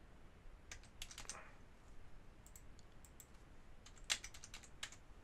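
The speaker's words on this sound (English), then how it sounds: "Just type in the zip code you want." Fingers tap out zip codes on a computer keyboard, bursts of quick, faint key clicks with short pauses between groups, close and alone in a quiet room.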